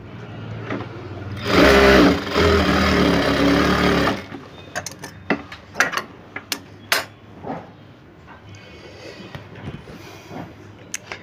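A sewing machine stitches a blouse in a loud, steady run of about two and a half seconds, then stops, followed by scattered sharp clicks and taps of the machine and fabric handling.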